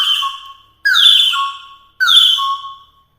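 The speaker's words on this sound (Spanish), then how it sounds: "Aquí en México pues tenemos de este tipo que son los silbatos trinadores." A Mexican water-filled trilling whistle warbles three times, each bright trilling tone starting abruptly and fading, with short silences between.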